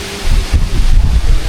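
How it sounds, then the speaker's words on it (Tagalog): Strong typhoon wind buffets the microphone outdoors as a loud, continuous low rumble that surges and roars steadily throughout, with no talking. "Malakas na po yung hangin, no?"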